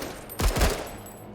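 A short burst of rapid gunfire from the shooter game Menace, a dense cluster of loud, close shots lasting under half a second.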